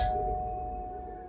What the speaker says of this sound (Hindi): दरवाजे की घंटी फिर बजी